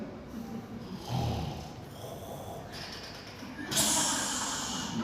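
A man imitates a beggar's snoring with his voice: rough, rasping snores and snorts, loud and close, with a harsher burst near the end.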